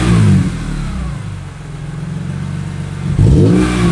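A BMW E46 M3 revs through a new exhaust, with sharp bursts at the start and the end and a lower, wavering idle between them, loud and close by.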